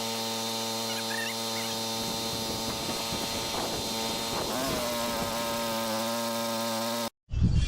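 A welder runs off a Predator 4550 watt inverter generator, giving a continuous close buzzing hum with a crackling arc over about seven seconds, then a brief cutout and a short restart.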